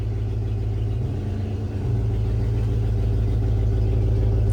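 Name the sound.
1994-1995 Dodge Ram 1500 engine running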